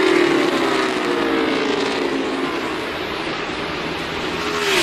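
Stock cars at a NASCAR Cup championship race on the final lap, a steady loud engine roar with a drawn-out pitch sweep as cars pass, a continuous dense wash of racing noise with no talk.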